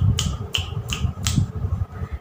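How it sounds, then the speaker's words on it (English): Four crisp finger snaps ring out in an even rhythm during a children's action-rhyme class, close and clear with a faint background hum and no talking. "Snap your fingers."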